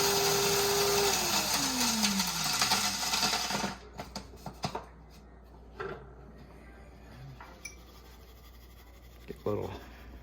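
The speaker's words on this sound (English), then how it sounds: "so I'm going to have to grind just a little bit, and I use 1 scoop per cup" A coffee grinder grinding a small amount of coffee beans whirs loudly for about four seconds, then its motor winds down with a falling pitch, followed by quiet clicks and handling noises.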